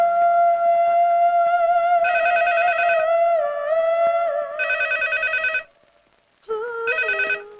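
A telephone rings in bursts of warbling electronic tones, three separate rings with short pauses between them, loud and close with no talking.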